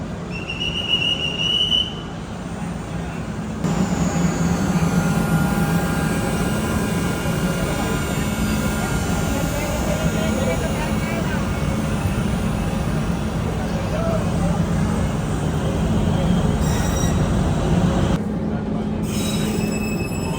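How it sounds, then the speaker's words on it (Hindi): An Amrit Bharat Express train departs Kamakhya station for Rohtak, with a steady loud rumble of rolling railcars and squealing wheels throughout and background noise on the platform. "पीछे देखिए, अमृत भारत ट्रेन यहाँ से गुजर रही है रोहतक के लिए।"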